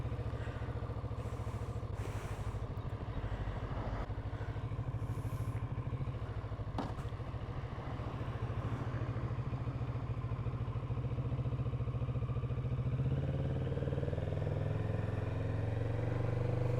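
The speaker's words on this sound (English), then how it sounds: "Start the engine." A Kawasaki Z650RS motorcycle engine starts and settles into a steady, loud, close idle with an even low rumble; its tone shifts slightly near the end, and no one talks.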